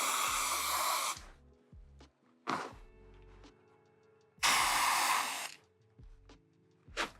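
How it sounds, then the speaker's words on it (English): Spray bursts into a vinyl handbag during sewing: two long hissing blasts and several short puffs, separated by quiet gaps, close and fairly soft. "I'm just gonna spray it in."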